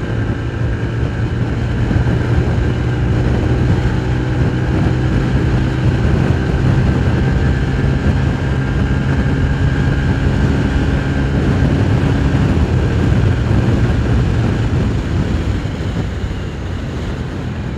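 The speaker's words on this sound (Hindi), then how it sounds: "बड़ी यार फन एक्सेलरेशन है इस बाइक की" A 2021 Yamaha YB125Z motorcycle engine pulling hard under acceleration on the road, a loud continuous drone with steady engine tone and wind rush throughout, recorded close with no voices.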